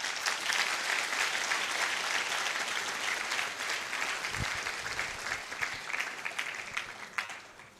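Sustained applause from a large audience at a university school of agriculture 50th anniversary launch, a dense steady wash of clapping that holds throughout and only slightly thins toward the end.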